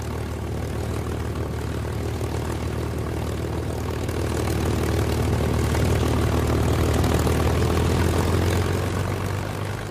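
A North American P-51 Mustang flying with its propeller engine droning loud and steady, swelling slightly as it nears then holding a deep, continuous roar without speech.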